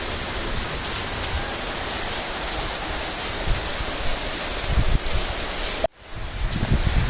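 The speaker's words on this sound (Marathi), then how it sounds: "बारिश देखो भाई सब भीग गया" Heavy rain pours down on a balcony, a dense, steady hiss that fills the whole stretch, briefly cut off near the end before returning.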